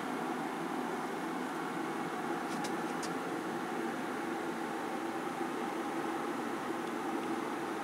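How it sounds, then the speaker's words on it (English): Electric kettle heating water in a room, giving a steady, even rushing hiss that holds at a constant moderate level throughout, with a couple of faint brief clicks partway through and no talking. "The noise you can hear is the kettle boiling"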